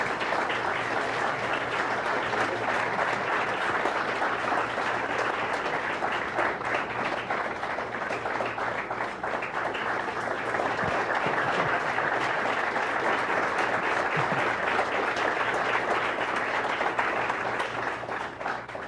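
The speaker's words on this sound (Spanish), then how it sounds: "Quiero aprovechar para que le den un aplauso a mi mamá" A crowd at a community gathering applauds steadily, a dense and continuous wash of clapping that holds at an even level for nearly twenty seconds.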